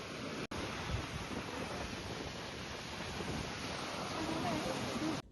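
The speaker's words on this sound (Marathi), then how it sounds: "फक्त पाण्याचा आवाज लाटा वगैरे दिसत आहे" Ocean waves wash steadily onto Aare-Ware beach near Ganpatipule in Konkan, India, in a continuous broadband roar, with wind buffeting the microphone and no clear talking.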